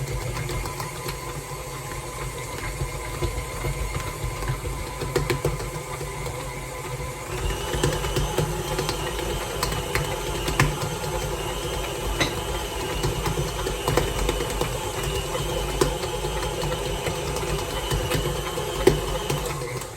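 A KitchenAid stand mixer kneads pizza dough with a continuous mechanical whir. Faint rattles and knocks from the machine shifting on the counter run through it for about twenty seconds.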